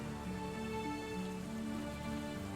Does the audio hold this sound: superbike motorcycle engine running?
no